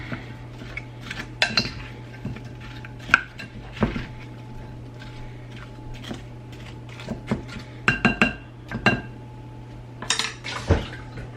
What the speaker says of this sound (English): I'm gonna stir all this together